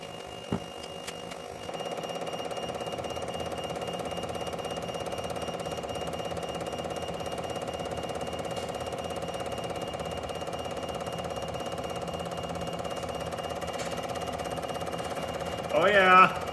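An electric fuel pump on a plot combine keeps up a steady mechanical hum and buzz while pumping diesel, with a few clicks at the start and a brief burst of talking near the end.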